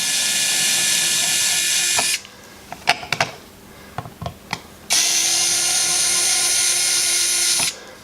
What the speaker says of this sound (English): I like using this little electric screwdriver to get things out because it kind of speeds up the process a little bit